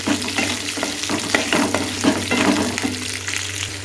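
Chopped onions and garlic sautéing in a pan, a steady close sizzle with repeated scraping stir strokes and a low background hum, no voices.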